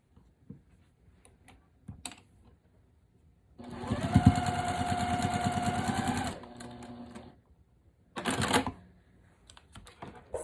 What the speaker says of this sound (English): So let's sew these 2 together.